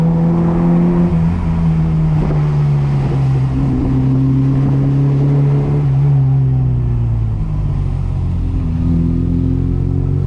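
A light 1973 Mini Cooper with a 60 horsepower engine and 4-speed transmission revs while driving a road on Maui's west side, a loud, close engine drone rising and falling in pitch with wind noise, no talking.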